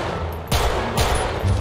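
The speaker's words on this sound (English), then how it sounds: "Oh, you taking shots, Franklin" Gunfire in the GTA 5 video game: two loud bursts of shots about half a second apart, with a dense crackle continuing between and after them.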